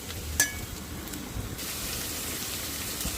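Spiny gourd pieces frying in an oiled pan, a continuous hissing sizzle with an early spoon clink and brief stirring scrapes, close and low in level.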